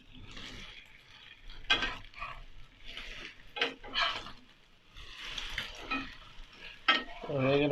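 Laccha paratha frying in oil in a pan, with irregular bursts of crackling sizzle as the flatbread is turned and pressed, and quieter gaps in between.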